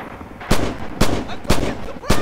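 Red Orchestra 2 rifle and machine-gun fire aimed at an enemy recon plane on the Spartanovka map: four loud, sharp shots spaced evenly about half a second apart, each with a short ringing tail.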